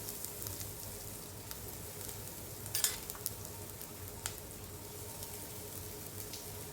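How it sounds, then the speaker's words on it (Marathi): Grated coconut and raisins sizzle quietly in ghee, a faint steady frying hiss with a few brief crackles and pops near the middle. "मनुका टाकून झाल्या खोबऱ्याचा जो किस केलेला आहे तो मी तुपात सोडणार आहे"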